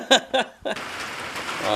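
After a couple of brief vocal sounds, steady rain sets in and keeps a dense, even hiss of falling drops, close and fairly loud.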